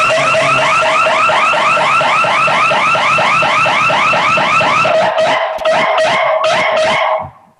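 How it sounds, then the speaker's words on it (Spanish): An electronic alarm in a dental clinic sounds loudly, with a rapid repeating warble that then breaks into several short separate bursts before cutting off abruptly. "eso es la alarma contra el virus"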